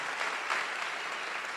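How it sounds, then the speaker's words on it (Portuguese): A short burst of lively applause at a church service, many hands clapping steadily at moderate volume with no voices. "Pode aplaudir o Senhor"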